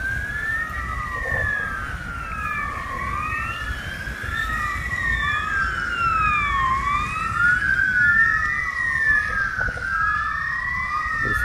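A fire engine siren wails in steady rising and falling sweeps as it travels along a road nearby, loud and continuous over a low traffic rumble.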